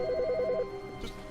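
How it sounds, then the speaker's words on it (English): A phone's electronic bell in the video game The Stanley Parable trills in a quick warbling burst, then stops, fairly faint over a steady background hum. "There's a phone ringing."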